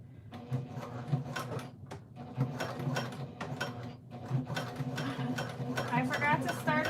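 A sewing machine top stitches a backpack, its mechanism chattering in a rapid rhythm that pauses briefly and restarts as the fabric is guided through, with a person speaking at moments.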